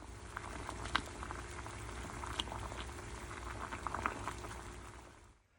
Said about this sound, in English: Let's get this main on the boil and we'll be right back.